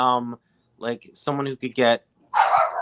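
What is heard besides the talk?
dog barking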